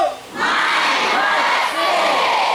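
A large crowd of students at an Islamic boarding school roars in a loud, sustained collective shout that briefly dips and then surges again.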